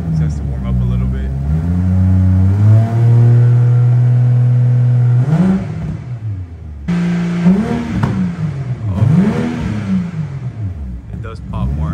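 A 2022 BMW M340i fitted with a Magnaflow exhaust revs repeatedly up close, its deep drone climbing and falling through several throttle blips with a brief pause between, while people talk over it.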